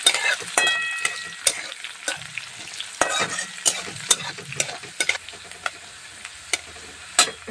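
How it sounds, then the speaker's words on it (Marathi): Finely chopped green chillies fry in hot oil for spicy rava upma, a steady sizzle broken by repeated close spoon scrapes and taps against the pan. "हिरवी मिरची बारीक कट करून घेतलेली एक मिनटं छान अशी मिरी तळून घ्यायची"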